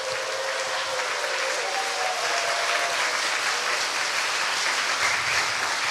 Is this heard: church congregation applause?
yes